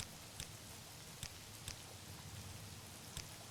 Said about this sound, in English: blimmin' raining, yeah.